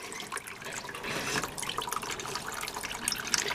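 Water trickles and drips steadily from a potted Mystery Madame succulent as it drains, a faint, continuous patter with scattered droplets throughout.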